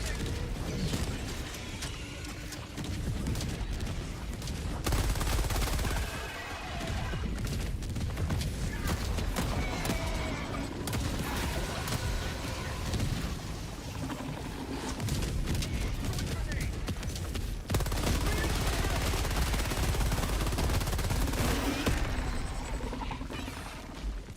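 Sustained video game gunfire, with rapid bursts of shots crackling through a loud, busy battle mix over roughly twenty seconds while a player talks over the action.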